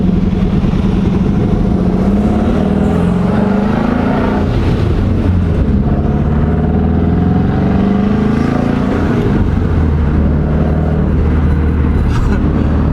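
A Subaru WRX engine revving up close, the pitch rising and falling through several throttle blips with a throaty, rumbling exhaust note.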